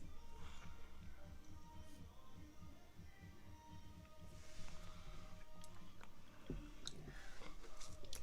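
Someone chewing on a mango-flavored coconut jelly drink, soft wet squishing and biting sounds close up, steady and continuous with a few sharper crunchy clicks.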